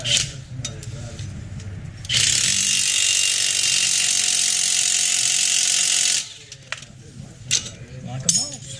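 An Allen wrench ratchets on a 2011 Chevrolet Silverado 3-inch leveling kit, a close, continuous metallic clicking that lasts several seconds between quieter handling sounds and low voices.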